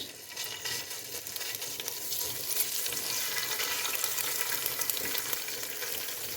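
Ginger garlic paste crackles and sizzles in hot oil, a steady bright hiss with faint stirring, fairly quiet and continuous.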